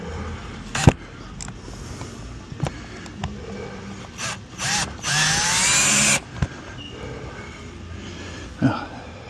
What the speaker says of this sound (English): The self-tapping screws went right through that super thin aluminum like no problem.